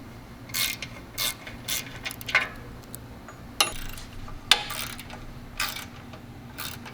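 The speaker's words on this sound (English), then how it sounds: "you want to take your 1/4-inch drive ratchet with an extension and a 1/2-inch drive swivel socket" A 1/4-inch drive ratchet on an extension with a swivel socket, loosening exhaust flange nuts on a motorcycle, gives several short close clicking bursts separated by pauses, with a low steady hum underneath.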